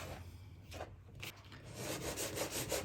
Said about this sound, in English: you want to rub the fat into the flour until it resembles breadcrumb